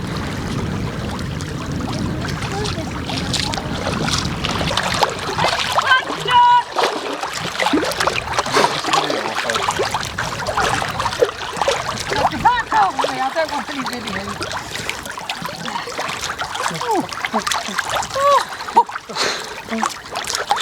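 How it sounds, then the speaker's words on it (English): A person swimming in warm sea water beside a canal boat crossing the Wash, with irregular close splashes and sloshing throughout while voices talk nearby. "But Mum's going to go for a swim."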